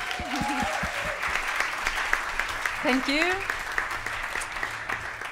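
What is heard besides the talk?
audience applause at concert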